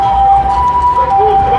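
A Japanese ambulance siren wails loudly and steadily as it drives slowly past on a street, its tone wavering slightly, with low traffic rumble beneath.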